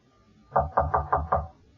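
Five sharp knocks strike a locked door in an even rhythm, close by and loud against a quiet room.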